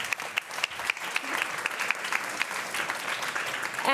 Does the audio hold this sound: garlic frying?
no